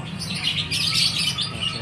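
Small cucak songbirds chirp and tweet in a steady, busy chorus at an Indonesian bird market, a dense wash of overlapping calls over a low crowd murmur, moderately loud throughout.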